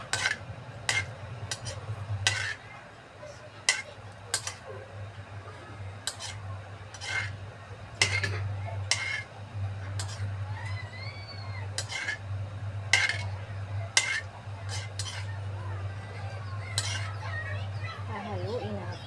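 Corn with cheese and broth being stirred in a pot, with repeated scraping and clinking of a utensil against the pot over a steady low hum, while children's voices and talk sound in the background.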